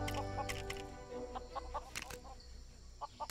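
Chickens clucking in the video game Lego Worlds, several short, quiet clucks and squawks spaced irregularly over a soft background, without talk.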